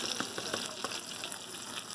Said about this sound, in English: It is frying up like an egg, almost like an omelet, isn't it?